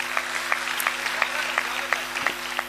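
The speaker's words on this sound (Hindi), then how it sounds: "एक बार ताली बजाओ और मैं शुरू होना चाहता हूं" Scattered audience claps at an open-air Hindi kavi sammelan poetry gathering in Pantnagar, a handful of sharp hand-claps spread unevenly over a steady low hum, moderately near and without talk.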